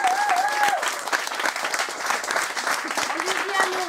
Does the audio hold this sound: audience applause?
yes